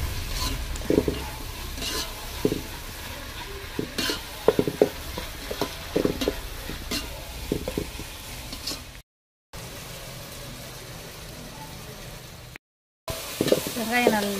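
Onions sautéing with a pinch of salt in a pan for Tamil beef kulambu, a steady sizzle broken by frequent scraping stirs and clinks of the spoon, close and fairly loud, with two brief gaps of silence near the end.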